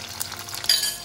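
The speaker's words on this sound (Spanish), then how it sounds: "Ahora ponemos las almejas." Clams are dropped into a pot for white beans with clams, giving short glassy clinks and clatters of shells, close and moderately loud, over a faint background hiss with no talking.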